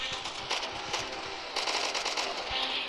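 Rapid gunfire from the Roblox Zombie Uprising video game, a dense continuous crackle of repeated shots with no pauses, fairly loud and steady throughout.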